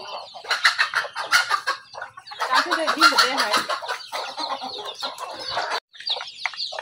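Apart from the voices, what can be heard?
Tiger breed hen clucking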